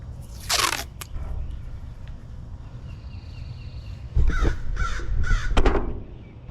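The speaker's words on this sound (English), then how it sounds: "Crows are out." Two bursts of crow cawing ring out in the open air, a single harsh call followed by a closer run of several rapid caws, with quiet outdoor ambience between them.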